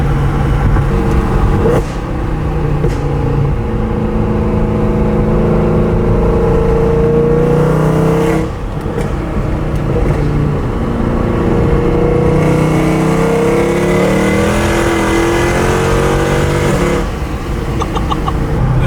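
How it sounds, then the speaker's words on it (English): A supercharged Acura TL Type-S engine revs hard and continuously through downshifts, its loud, rising and falling engine note dominating throughout with brief dips between gear changes. "We gotta get some downshifts in."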